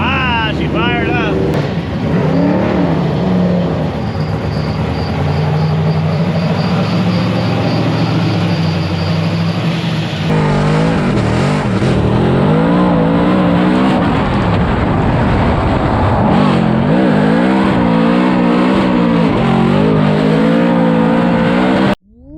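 A drift car engine fires up and revs hard on the streets of Long Beach, a loud raspy roar rising and falling in repeated surges, with people talking nearby.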